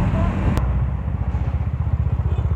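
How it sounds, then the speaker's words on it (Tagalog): A Yamaha NMAX scooter motorcycle engine rumbles close by with a steady, pulsing low drone as it rides and chases other bikes, a brief sharp click near the start. "Humahabol din ng NMAX oh."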